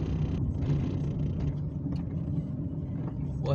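A bus rumbles with a low, steady engine drone on a roadside near Quinta da Boa Vista at night, while people talk nearby.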